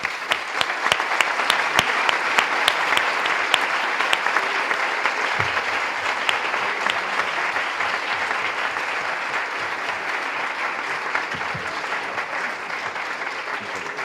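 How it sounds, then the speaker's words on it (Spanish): Audience applause after a talk at a debate on a new economy, steady continuous clapping from a sizeable crowd filling the room, loud and sustained throughout with no talking over it. "la gente te ha aplaudido"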